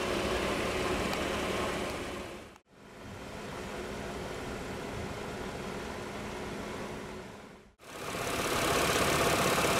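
A 2017 Cadillac XT5's revised General Motors 3.6-liter V6 runs at a steady idle, a broad continuous engine drone with two brief dropouts breaking the sound.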